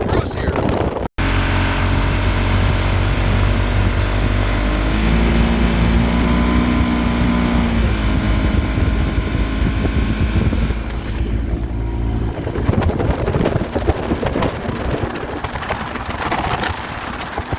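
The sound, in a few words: vintage 1970s motorboat engine cruising on a lake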